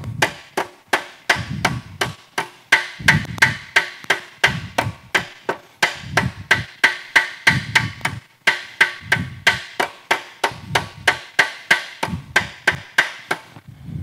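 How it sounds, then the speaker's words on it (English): Hammer walked across sheet metal to shrink a pucker, a fast, even run of sharp metallic taps in close succession, loud and near, with no talking. "I'm basically doing the same thing with the hammer, not hitting it directly, but walking the hammer."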